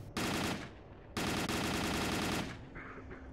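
Automatic gunfire rips out in two long bursts in STALKER: Call of Pripyat, loud and close, aimed at birds, with a brief pause between bursts and a fading tail afterward.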